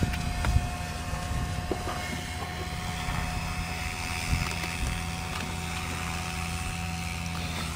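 A generator runs steadily, giving a continuous mechanical drone with a low hum and a few faint knocks, heard alone without voices.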